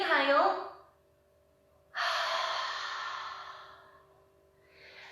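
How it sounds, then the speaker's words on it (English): A yogic sea breath at a breathing and meditation class: a voice breathes out audibly through the mouth in a long, close, breathy rush, preceded by a shorter breath sound and followed by a softer one, with a faint steady tone underneath. "You're making the noise and you're breathing out through the mouth."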